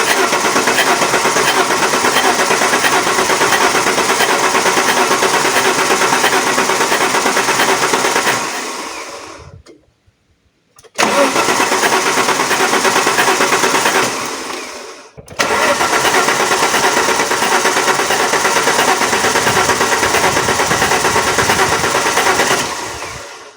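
An Alfa Romeo 164 V6 Turbo Busso engine with two injectors not firing runs loud and rough in three long stretches. Each run cuts off abruptly with brief silences between them, and no one speaks.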